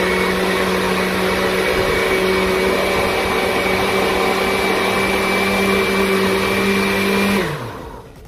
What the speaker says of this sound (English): So now we are going to blend, and then we add the rest of our spice.